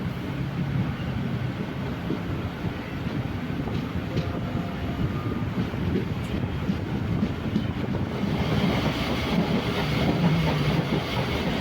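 A MEMU train runs through the night between Punalur and Kollam, its continuous wheel-and-rail rumble heard from on board alongside gusty wind buffeting, growing rougher and louder toward the end.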